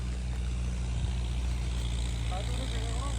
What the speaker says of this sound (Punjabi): ਟਰੈਕਟਰ ਦੀ ਆਵਾਜ਼ 'ਚ ਫਰਕ ਪੈ ਗਿਆ